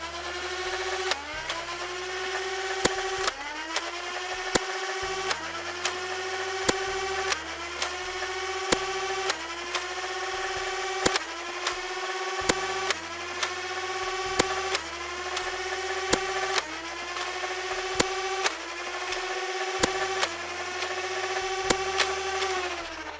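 Adventure Force Spectrum dart blaster firing a long run of angled shots, each a sharp crack followed by a rising motor whir, repeating steadily about every second, close and fairly loud with no talking.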